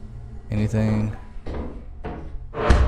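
Doors in a dark video game thud and bang open and shut in several heavy bursts, loud and close, with a player's voice reacting over them.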